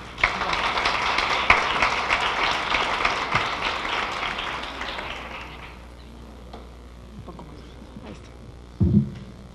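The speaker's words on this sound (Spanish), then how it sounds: "me gustaría que comenzáramos con un fuerte aplauso para iniciar esta sesión de ponencias" A forum audience claps to open a session of talks, a loud burst of applause that fades away after about six seconds, leaving quiet room noise and a brief thump near the end.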